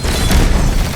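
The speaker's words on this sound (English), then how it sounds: "Get these grenades" Grenade explosions in the video game Destiny 2: a continuous heavy, rumbling boom filling the whole second, loud and close, with low-end blast energy and no clear talk over it.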